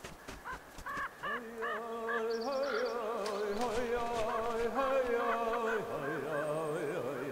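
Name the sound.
birds, likely crows, at a carcass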